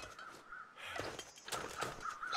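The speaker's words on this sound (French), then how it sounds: "C'est moi ou j'entends des corbeaux ailleurs que derrière nous?" Crows caw in the survival video game The Long Dark, giving several harsh calls that rise over a steady wind-like ambience, moderately distant and with no talking.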